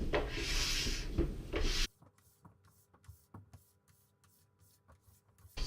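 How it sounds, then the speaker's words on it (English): A scraper runs along a snowboard base from tip to tail, lifting old wax in a dense rasping rub at first, then a few faint scattered scrapes and taps close by, with no talking. "just getting any of the old wax that was previously on the snowboard"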